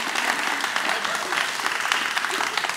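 Audience applause for professor Senai Gebreyab at a talk about the future of inclusive representation, a steady, dense clapping wash at close range with some voices mixed in.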